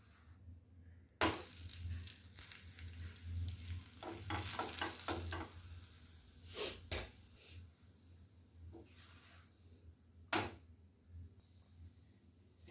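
Fenugreek (methi) leaves fry in a pan with a steady sizzle, broken by bursts of stirring and scraping and a few sharp clatters of a spatula against the pan; no one speaks.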